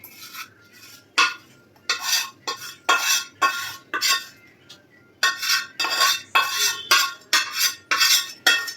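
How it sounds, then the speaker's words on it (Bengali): A metal spoon clinks and scrapes repeatedly against a pot as onion goes into boiling lentil water, a steady series of sharp, close strokes with brief pauses between them and no voices. "এবার আমরা এর মধ্যে এই পেঁয়াজটা দিয়ে দেবো"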